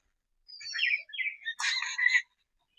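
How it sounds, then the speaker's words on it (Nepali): Birds sing in a forest after rain, with a few short chirping and trilling phrases one after another. The calls are fairly soft and clear, with no talking. "चराहरू पुरा खुसी भएको छ। चराहरू नाच्दैछ,"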